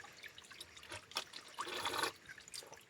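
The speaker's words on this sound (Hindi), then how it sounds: "पहले तो हाथ धो लेता हूँ, क्योंकि काफ़ी देर से मैं जंगल में भटक रहा हूँ, तो हाथ गंदे हो चुके हैं।" Hands splash and rub in a jungle stream, giving soft, close trickling and dripping water with a few brief splashy bursts, faint and quiet against an otherwise still background.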